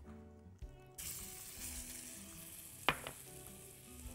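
Minced garlic hits hot olive oil and bursts into a close, bright sizzle that holds steady, with a sharp clank of a utensil partway through and no talk.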